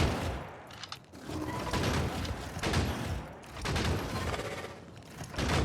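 Dense turret gunfire from the Factorio Space Age video game, a continuous rattling fusillade of rapid shots with swelling bursts, loud and sustained with no talking.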